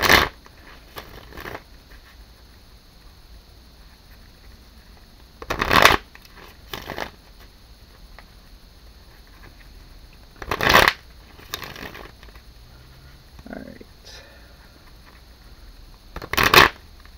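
Tarot cards are shuffled in short crisp bursts, each a quick riffle repeated about every five seconds, with quiet pauses between them.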